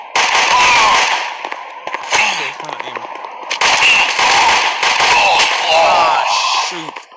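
Grenade blasts and gunfire from the shooter game Guns of Boom, loud bursts and crackling explosions close together, with a person talking over the action.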